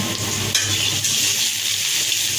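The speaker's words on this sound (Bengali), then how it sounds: "এই দেখতেই পাচ্ছেন যে আমরা নুডলসগুলো ভাজতেছি।" Maggi noodles fry in a pan with potatoes, giving a continuous close sizzle with a couple of brief stirring scrapes.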